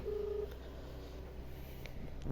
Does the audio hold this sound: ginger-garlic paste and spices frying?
no